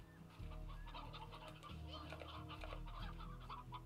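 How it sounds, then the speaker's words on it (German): Chickens in the video game Slime Rancher cluck and murmur in a busy, continuous flock chorus, fairly close, with a low steady hum underneath. "Ich bringe euch ein paar Hühner mit."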